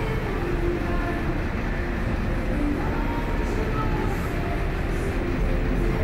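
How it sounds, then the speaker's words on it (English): The Las Vegas monorail pulls into the High Roller station, a loud, steady low rumble and hum of the train arriving, with faint voices in the background. "Here comes the monorail."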